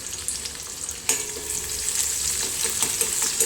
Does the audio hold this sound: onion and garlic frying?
yes